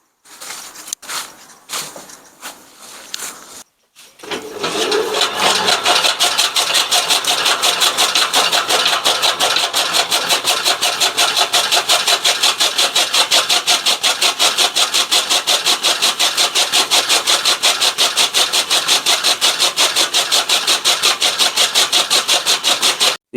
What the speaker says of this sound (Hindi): अब पहले जब हम चारा कुतरते हैं